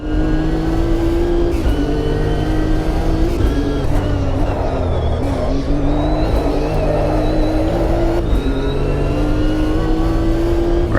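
Race car engine in the Automobilista 2 sim game on a flying lap, loud and continuous with a steady high drone, rising and dipping revs through gear changes and corners, no talking.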